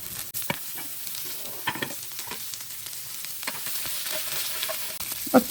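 Capsicum and onion stir-fry in a pan with a steady sizzle and frequent scraping strokes and clicks of a spatula. The sound is close, carries no voices, and ends on a sharper knock.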